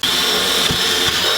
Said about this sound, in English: Now we're gonna drill the holes for our cables to pop through.